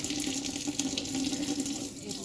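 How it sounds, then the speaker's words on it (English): Cold water running from a sink tap in a steady splashing stream, close by and alone, no talking. "I'm just running this cold water."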